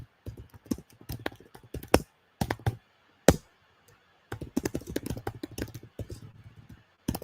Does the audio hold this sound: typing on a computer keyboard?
yes